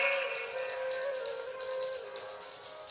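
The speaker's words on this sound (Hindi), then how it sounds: "जैसे ही हम घंटा बजाते हैं, घंटी बजाते हैं" A large metal temple bell rings with a bright, sustained, shimmering tone, struck repeatedly in quick succession, loud and near.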